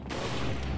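Gunfire in Resident Evil 4, a brief loud burst of shots with a sharp attack and a rumbling tail, heard alone.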